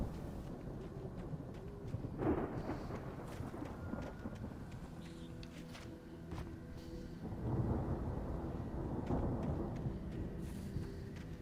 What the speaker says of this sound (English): The storm raged on as the Anderson brothers walked unsteadily away from the clinic